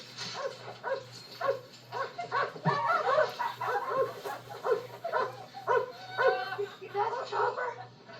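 A dog in the film Stand By Me gives repeated soft barks and yips in a steady rhythm, with a low hum and some chatter underneath.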